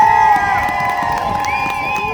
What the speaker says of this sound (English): I want to hear everyone clapping. Clapping. Screaming. Screaming. Making a whole lot of noise.